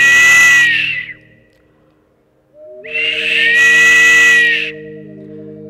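An ornate clay whistle blown twice, each a steady, shrill, breathy tone lasting over a second, separated by a pause, close and loud with a faint low hum underneath.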